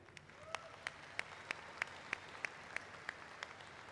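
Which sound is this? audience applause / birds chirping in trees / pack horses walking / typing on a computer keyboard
audience applause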